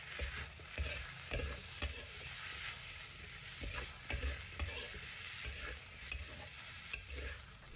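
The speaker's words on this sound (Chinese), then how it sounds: "继续用铲子翻炒" Spicy dry-pot potato slices, scattered with white sesame, are stir-fried with a spatula. A steady sizzle runs under repeated scraping and tossing strokes against the wok, and no one speaks.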